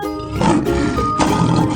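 A lion roars in a 3D animal slide video game: two loud, rough growling bursts, close and alone over a busy game soundtrack.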